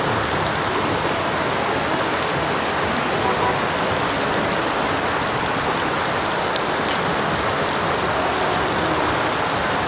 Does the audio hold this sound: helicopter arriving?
no